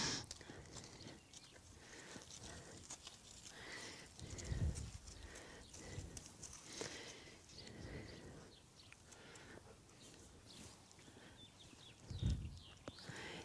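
A horse on a trail ride with a group of riders, giving soft hoof clip-clops and faint snorts at close range over steady outdoor ambience, with a couple of louder thuds and no speech.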